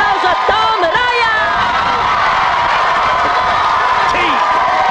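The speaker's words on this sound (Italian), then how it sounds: "Facciamo un bel applauso a Tom Ryan" Studio audience applauding and cheering, loud sustained clapping mixed with whoops and shouts from a crowd, close and energetic throughout.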